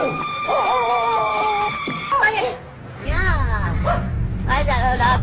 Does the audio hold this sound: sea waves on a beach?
no